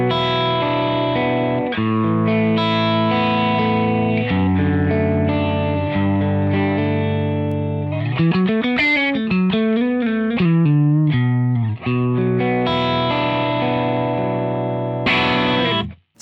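Electric guitar through an Amplitube 5 capture of a Matchless Independence 35 amp, set just on the verge of breakup, playing ringing chords and melodic runs with a bending lead passage midway, close and steady, alone without talk.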